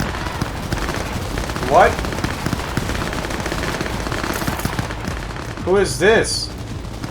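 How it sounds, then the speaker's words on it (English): Gunfire in Cyberpunk 2077 rings out under a steady game backdrop, a brief burst near the two-second mark and a louder double burst around six seconds, while a voice talks over it. "Who are they shooting at?"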